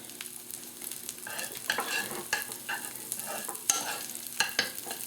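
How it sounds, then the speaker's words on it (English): Butter and oil sauté in a pan over low to moderate heat, with a soft steady sizzle broken by stirring scrapes and irregular crackles, close and without talk. "what I'm doing here is a quick saute. This is called sauteing. Low to moderate heat, fat, this being the butter and the oil."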